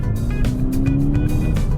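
A Volkswagen Golf GTI accelerates from inside the cabin, its engine drone loud and steady with small dips between gear shifts as the revs climb again.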